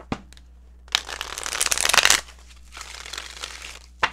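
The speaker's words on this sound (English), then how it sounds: "One more shuffle." Tarot cards are shuffled close up, giving a few sharp taps and then a dense riffling flutter that builds and stops abruptly, followed by softer card rustling and a final snap, with no talking.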